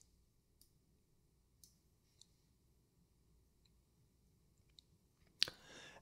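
Sharp, faint mouse clicks from a computer setup menu in audio software, a few isolated ticks spread across a quiet room before one louder click near the end.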